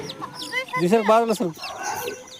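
A chicken gives a short burst of clucks up close, with a few quieter clucks and background noise around it, near a chicken coop with chicks.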